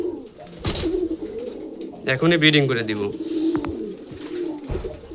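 A fully black Deshi Rajgolla pigeon coos close by in a few rolling bursts, while someone talks over and between the calls.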